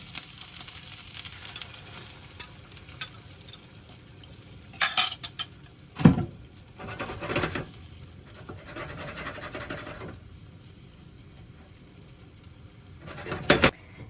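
Egg poured over crisping potatoes in a pan for tortilla española brings a low sizzle under intermittent scraping and clinking of a utensil, with a sharp knock midway and a burst of scraping at the end.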